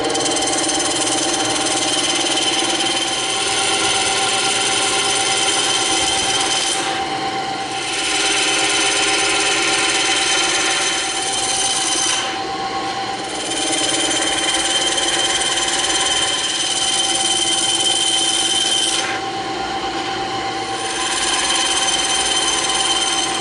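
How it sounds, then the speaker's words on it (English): A bandsaw cuts through EVA foam with a loud, continuous motor whine and blade drone, close up, dipping slightly in a few spots as the cut load changes. "we're going to rip this baby out on the bandsaw"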